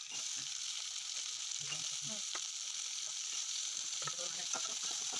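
Onions frying in hot oil with mustard seeds, curry leaves and green chillies, a soft continuous hiss with faint scattered crackles and an occasional light stir, heard quietly and without talk.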